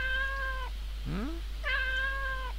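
A black cat meows twice in the horror video game Alice mare. Two clear, drawn-out game-sound meows come either side of a short rising vocal sound, all over a steady low hum.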